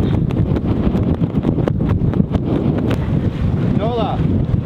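Strong wind buffets the microphone aboard a sailboat heading for a mooring ball in the Exumas, a loud, constant gusty roar with faint water sounds beneath.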